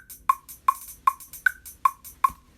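A slower triplet hi-hat roll in a rap beat: bright, metallic ticks repeat evenly about every 0.4 seconds, each with a sharp attack and ringing tail, played alone.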